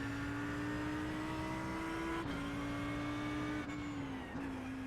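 A race car lapping the Roval in iRacing, its engine holding a steady, loud tone with brief dips at gear changes or braking for the chicane, continuous throughout with no talk.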